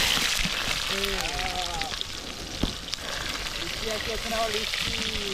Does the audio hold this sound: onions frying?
yes